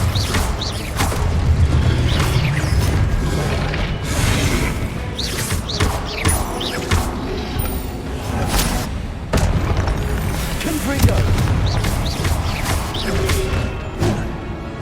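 Repeated Confringo explosive spell blasts in Hogwarts Legacy, a dense string of booming bursts and crashes with thuds and clattering debris, loud and continuous over more than a dozen seconds.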